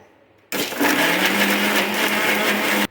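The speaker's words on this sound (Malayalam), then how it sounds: "ഇനി മിക്സിയിലിട്ട് ഒന്ന് അടിച്ചു കൊടുക്കാം ഇതിന്" A kitchen mixer grinder blending juice ingredients with milk starts abruptly and runs at a loud, steady whirring roar for about two and a half seconds before cutting off sharply.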